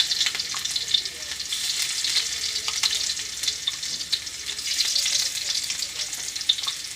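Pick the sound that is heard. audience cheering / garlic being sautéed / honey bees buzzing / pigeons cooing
garlic being sautéed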